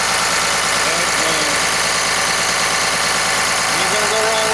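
A 5.9 liter Cummins turbo diesel engine in a 2003 Blue Bird 28-passenger bus runs close by with a steady rumbling idle, with voices faintly over it.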